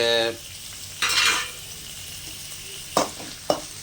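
Four large chopped onions and whole garlic cloves fry in oil in a pan, giving short bursts of close sizzling followed by a couple of sharp utensil clicks against the pan.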